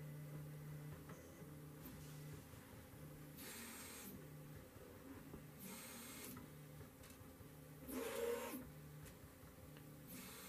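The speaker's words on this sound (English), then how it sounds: "Printer is going through a leveling process, and then it will begin printing." A 3D printer running its leveling process hums steadily with a rhythmic motor whine, broken by periodic bursts of hissing airy noise, one louder near the end.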